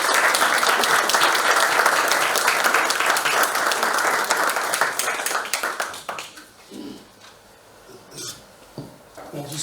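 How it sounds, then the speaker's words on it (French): Loud, dense applause fills a municipal council chamber for a retiring council member, holding steady for about six seconds before thinning to a few scattered claps and small room noises. "On peut l'applaudir."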